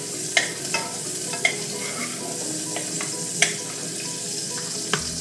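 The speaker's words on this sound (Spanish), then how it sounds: "Solo la vamos a acitronar, que cambie de color y es todo." Onion sautés in a pan with a steady sizzle while a utensil stirs it, knocking and scraping against the pan at irregular moments.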